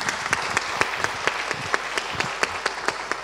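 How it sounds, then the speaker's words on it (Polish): Audience at a conference on horses in Poland applauds a director's introduction, with steady group clapping punctuated by regular, louder rhythmic claps, fairly close and without speech. "ogromne brawa, pan dyrektor Marek Zieliński."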